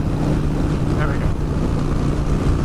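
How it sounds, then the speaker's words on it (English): Steady, loud wind roar buffets the helmet microphone of a pillion passenger on a moving motorcycle in rainy weather, a constant low rumble filling the whole stretch. "A little windy as well today, the forecast said."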